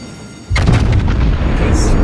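Heavy main-battery salvo from the battleship Musashi in World of Warships, a sudden loud deep boom that rolls on as a sustained rumble, close and dominant, with quieter game effects faintly beneath.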